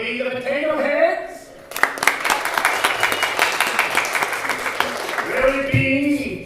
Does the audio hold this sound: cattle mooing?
no